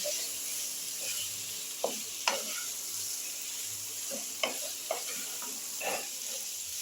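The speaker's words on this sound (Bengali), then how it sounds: "দিয়ে এবার ডিমের সঙ্গে মশলাটা আমি মাখো মাখো করে নিচ্ছি" Boiled, pre-fried eggs being stirred through sizzling masala in a pan for egg curry: a steady close sizzle with several sharp spoon scrapes and knocks against the pan.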